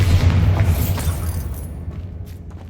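A Bombarda spell explosion in Hogwarts Legacy lands as a heavy, deep boom with rumbling debris that slowly fades over a couple of seconds.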